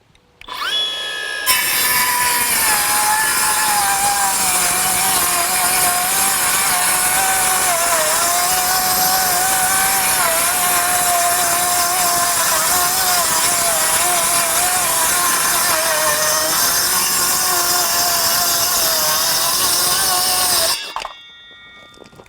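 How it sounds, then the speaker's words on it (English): Milwaukee M12 FUEL Gen II compact circular saw with a 5 3/8 inch blade, running on an XC 5 amp-hour high-output battery, cuts through two stacked sheets of 1/2 inch OSB in one loud, steady whine lasting about twenty seconds. "2 sheets of 1/2 inch OSB, the 5 3/8 inch blade on this saw with the XC 5 amp hour high output M12 battery."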